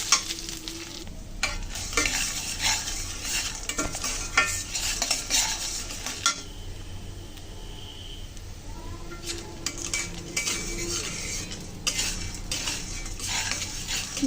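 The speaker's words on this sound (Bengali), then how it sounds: "সেই তেলে একটু দিয়ে দিলাম ডাল। ডালগুলো সুন্দর করে ভেজে নেওয়া হবে।" Chickpea lentils (boot dal) frying in chilli-infused oil in a pan, a continuous crackling sizzle with frequent metal spoon scrapes and clinks against the pot, close and fairly loud throughout, no voices.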